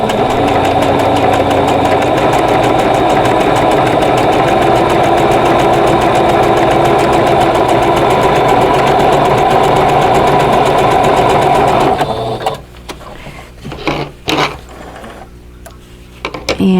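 An embroidery machine runs a blanket stitch on a Christmas cottage quilt block, giving a loud, steady mechanical whir for about twelve seconds before stopping and leaving scattered quieter clicks.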